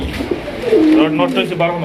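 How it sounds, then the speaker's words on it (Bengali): Black racer pigeons cooing up close, a short throaty warbling coo that rises and falls over a couple of seconds, alone and clear. "এখানে রয়েছে দুইটা দুই কোয়ালি কবুতর একটা হচ্ছে ব্ল্যাক রেসার কবুতর"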